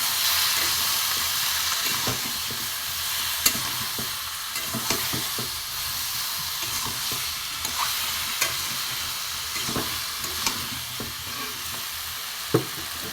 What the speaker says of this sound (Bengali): একটু কষিয়ে নেবো ভালো করে।